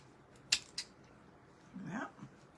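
Scissors trim a small tail of craft material on a DIY hot-air-balloon mobile, with two crisp, close snips followed by a brief soft rustle.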